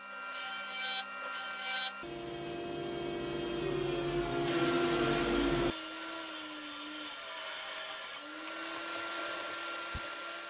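A circular saw blade cuts through a wooden log with a loud, grinding roar in several passes, then the motor spins on with a high whine after the cut ends.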